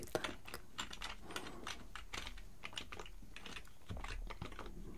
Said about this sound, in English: Don't mind me typing your answers.